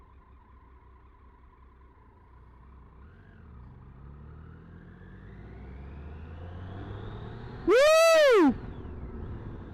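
Triumph Tiger 800 ABS motorcycle on a road test ride, its engine a low drone that swells and climbs steadily in pitch as it accelerates, and near the end a rider lets out a loud whoop.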